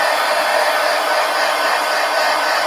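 A hair dryer blows steadily on wet paint in a mixed media art journal, a loud, even whooshing hum with no pauses and no talking.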